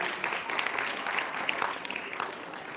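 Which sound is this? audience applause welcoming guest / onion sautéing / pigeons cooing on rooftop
audience applause welcoming guest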